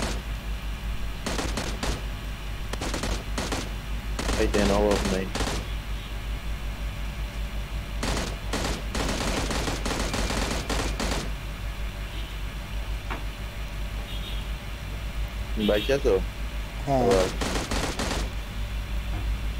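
Bursts of gunfire from a shooter video game, several separate volleys of rapid shots spread across the clip over a steady noisy background, with brief talk in between.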